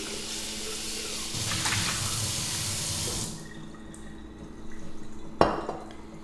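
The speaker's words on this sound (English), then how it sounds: "I don't need this anymore, so I can just rinse it." Running water from a tap rinses out a bottle used for cold brew iced tea, a steady loud splashing stream for about three seconds, then quieter trickles and a sharp clink of the container near the end.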